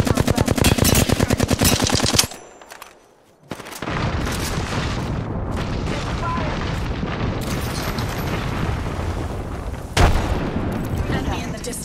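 Continuous rapid automatic gunfire rattles through a match of the video game Apex Legends. A brief lull falls near the start, and then sustained bursts and booms return at full volume. The game's character voice lines can be heard mixed in.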